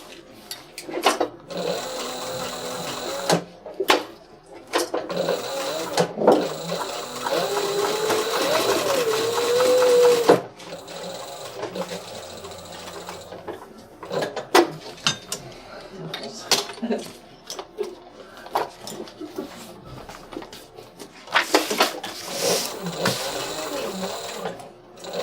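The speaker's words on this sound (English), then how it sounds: "And then we sew the gusset on." An industrial sewing machine stitches nylon straps and a gusset onto a backpack, running in short bursts and longer whirring runs close by, with pauses between seams and some handling noise.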